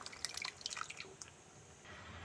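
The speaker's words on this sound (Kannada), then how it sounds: "ಈಗ ತೊಗರಿಬೇಳೆ ಚೆನ್ನಾಗಿ ಕುಕ್ ಆಗಿದ್ದು ಹಾಕೋಣ." Cooked toor dal drops into a pot of Mangalore temple-style cucumber sambar in soft, quick wet plops and drips, close and faint, followed by a quiet liquid hiss.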